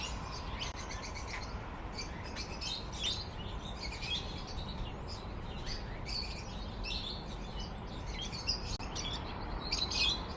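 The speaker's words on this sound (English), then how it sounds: "Quite a big aviary. All sorts of birds in here." Many small birds chirp and twitter continuously in a large aviary at a cafe garden in Leeds, a dense chorus of overlapping calls against a steady noisy background.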